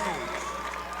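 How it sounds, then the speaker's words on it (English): Crowd applause at a girls' state high school basketball semifinal as seniors leave the court, a loud, continuous roar of clapping and crowd noise filling the whole moment, with a commentator talking over it. "big hand from their crowd"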